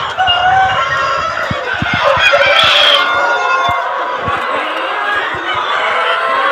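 A crowded poultry house full of chickens gives a constant dense chatter of clucks and calls, with a rooster-like cry rising briefly midway, loud and close, with faint knocks underneath.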